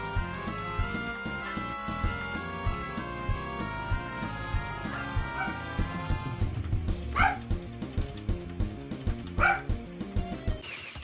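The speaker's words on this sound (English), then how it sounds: "I'm gonna pause the recording for a little bit because he's barking." A dog barks in sharp, repeated yips and barks over several seconds, close and fairly loud, following a stretch of electronic rhythm-game music that plays on underneath.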